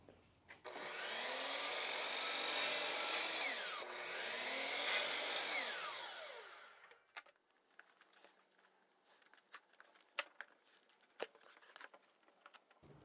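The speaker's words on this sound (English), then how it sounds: "I'll just use the saw real quick. I'll probably cut them in half." A hand saw cuts wooden dowels in half for concrete Christmas tree decorations, giving about six seconds of loud, steady rasping strokes in two bursts, followed by quieter scattered taps and handling noises.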